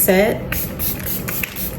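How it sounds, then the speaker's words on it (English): A few short hissing bursts of makeup setting spray, close by, with a voice heard briefly at the start. "use some spray"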